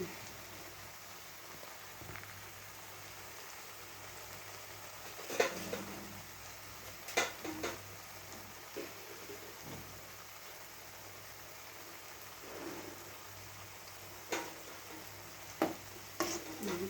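Snacks deep-frying in oil, a steady fine crackling sizzle throughout with occasional louder clinks and stirring taps.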